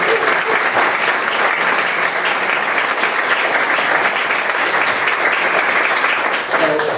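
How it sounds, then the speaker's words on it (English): Sustained, loud audience applause at a conservation leadership lecture, dense clapping holding steady for the full stretch with no talk over it. "So one more round of applause for Mallory."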